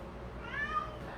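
A house cat gives a short, faint meow, a brief rising-and-falling call over a low background hum in a home kitchen.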